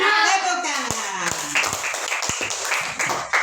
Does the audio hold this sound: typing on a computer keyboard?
no